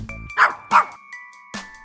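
A dog gives three or four short, sharp barks in quick succession at close range, with a faint steady tone ringing underneath, set in a children's toy playset story.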